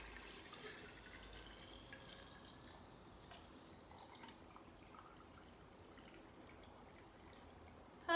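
Pickling liquid is poured over cucumbers into a jar, a faint, close trickle with scattered drips and splashes, quiet throughout until a sudden louder sound right at the end.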